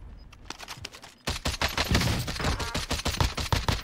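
DMR rifle fire in the Warzone video game, a quick run of sharp, loud repeated shots. Fainter bursts come first, then after a brief pause a denser, louder volley continues to the end.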